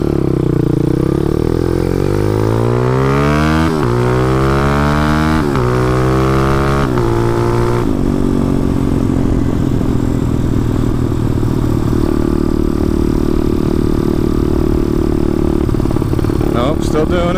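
A motorcycle engine fitted with a 34mm carburetor runs close and loud, its revs climbing in uneven steps before settling into a steady, rough idle that holds for the rest of the clip.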